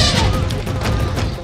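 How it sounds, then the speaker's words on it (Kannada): Explosive cannon fire booms and rumbles in a loud, close burst during a Dasara rehearsal held to accustom elephants and horses to the noise. "ಗಜಪಡೆ ಅಶ್ವಾರೋಹಿ ದಳಕ್ಕೆ ಸಿಡಿಮದ್ದು ತಾಲೀಮು."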